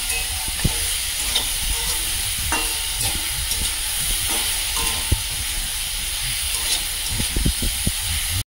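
Fried potato pieces sizzle in a pan with salt and turmeric while being sautéed, a constant close hiss of frying broken by sharp clacks and scrapes of a spatula stirring against the pan.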